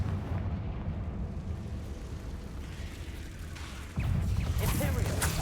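A Confringo fire spell bursts in the video game Hogwarts Legacy, a loud blast hitting partway through over a steady rumble of game sound and effects, with a voice calling out over the action.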